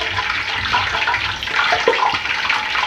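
Cooking oil heating for frying lobster corndogs, a steady soft sizzle and bubbling hiss, continuous and close, with no talk over it.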